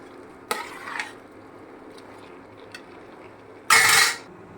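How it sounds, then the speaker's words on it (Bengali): A spoon scrapes and stirs lentils being dry-fried in a pan for vegetable khichuri, two short bursts of scraping and rattling against the metal over a quiet kitchen hiss. "ডাল ভাজা হয়ে গেছে,"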